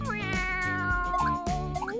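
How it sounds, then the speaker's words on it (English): A cartoon kitten gives a few short, bright meows over a steady musical background, close and clear throughout the brief moment. "Oh, a cute kitten."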